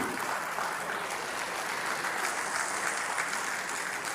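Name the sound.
audience applause at photography day event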